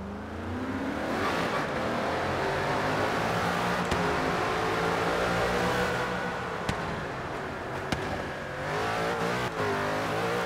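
A V8 engine from the original Ford GT, swapped into a new Ford GT in Forza Horizon 3, drones loudly through a tunnel with a steady, echoing roar, its pitch rising and falling as the car accelerates and shifts.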